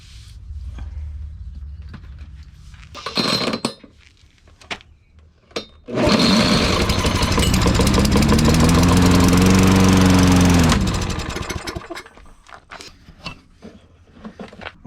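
A Lawn Boy lawn mower engine sputters briefly, coughs once, then catches and runs loudly for about five seconds before dying away, leaving faint clicks and handling noises.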